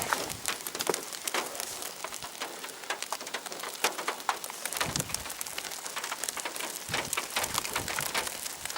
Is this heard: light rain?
yes